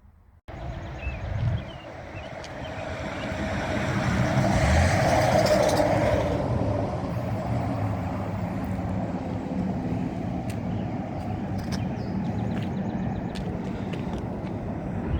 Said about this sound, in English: There'll be some road noise as cars go by